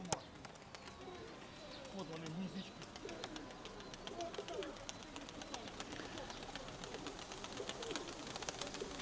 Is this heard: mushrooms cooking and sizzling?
no